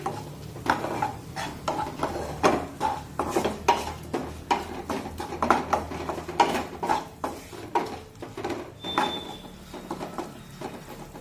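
A spoon repeatedly scraping and clinking against a pan while asafoetida and turmeric are stirred into cooked chilies for a dry potato dish, close and steady, with faint sizzling underneath.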